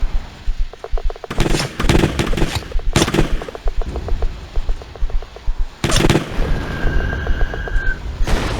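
Rapid bursts of gunfire from the video game Letters of Bernard Thorne, several clusters of sharp shots with short pauses between them, loud and close, with no talking.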